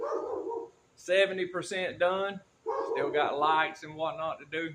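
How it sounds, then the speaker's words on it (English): A dog barks repeatedly near a welding service trailer being built from scratch, the barks mixed under someone talking close by. "pardon the dog barking"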